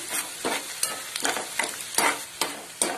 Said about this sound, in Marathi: आता गुलाबी कांदा करून घेते.